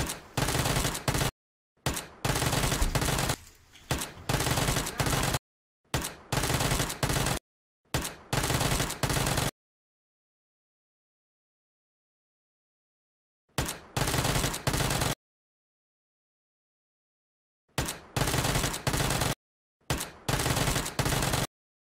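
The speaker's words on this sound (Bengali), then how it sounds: "ভাই গুলি করে ভাই" Several bursts of rapid automatic gunfire, each lasting a second or two, separated by short silences and one longer pause.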